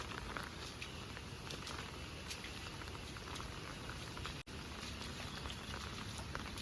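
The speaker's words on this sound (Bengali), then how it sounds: "কন্টিনিউ বৃষ্টি হয়েই যাচ্ছে বৃষ্টি থামার কোনো নামই নাই" Continuous rain makes a soft, even hiss with faint patter, steady throughout and heard from a distance.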